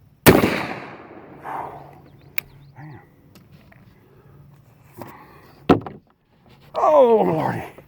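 A New England 12 gauge magnum slug gun fires one sharp, loud blast, and a second booming shot follows a few seconds later, each decaying quickly outdoors, with a person speaking briefly in between and after.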